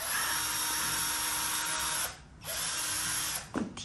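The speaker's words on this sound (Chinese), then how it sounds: "这想办法开椰子都开了半天，现在陶吉给我拿出了电钻。" An electric drill bores into a coconut with a continuous high whine. The motor drops out briefly partway through, then restarts and keeps grinding until a short scrape near the end.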